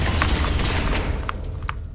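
Gunfire in Space Hulk: Ascension as a Blood Angels Terminator squad opens up, a dense continuous barrage of booming shots with a few sharper cracks standing out near the end.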